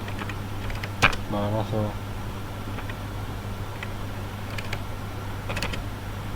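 Soft keyboard taps enter a number into an Excel spreadsheet cell. A few scattered clicks and a short rattling run sit over steady background hum while someone speaks Hindi.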